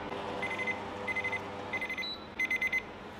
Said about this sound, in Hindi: तो हमारा टाइमर बज चुका है